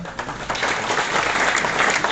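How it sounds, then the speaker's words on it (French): Warm applause from the audience at a sports club's tournament draw ceremony, a steady dense clatter of clapping filling the room without pause. "à travers les applaudissements que nous faisons"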